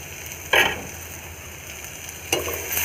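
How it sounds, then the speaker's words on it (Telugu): Mustard seeds hit hot oil, giving two brief bursts of sharp crackling sizzle over a low steady frying hiss, close and without talk. "ఆవాలు కూడా వేసేయాలి."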